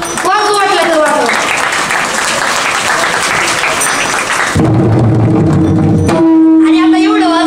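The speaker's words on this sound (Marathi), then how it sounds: "त्या लेकरासाठी जोरदार टाळ्या" Loud audience applause at a Marathi kirtan, a dense burst of clapping that fills the space, with voices and a sustained musical tone rising over it toward the end.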